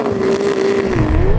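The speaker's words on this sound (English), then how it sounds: "Lamborghini, rev your V10" A Lamborghini V10 engine holds a steady, loud revving drone that rises slightly in pitch near the end, alone without talk.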